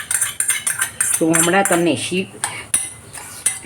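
A spoon stirs cooled tempering into a cabbage salad in a metal bowl, giving repeated close scraping clinks and rattles while someone speaks briefly over it.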